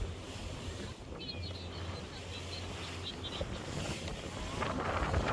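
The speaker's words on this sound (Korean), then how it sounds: "파도도 조금 있어요." Soft wind buffets the microphone over a low wash of sea waves, heard from a fishing boat out on the water off Gangneung, quiet and continuous without speech.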